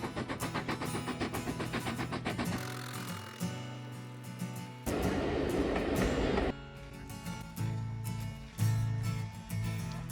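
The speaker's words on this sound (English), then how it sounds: "it even looks like someone's proposed whilst watching the steam train pass by." A steam train rumbles past at Glenfinnan, Scotland, with rhythmic clacking of wheels, swelling louder midway and then receding, steady and fairly close.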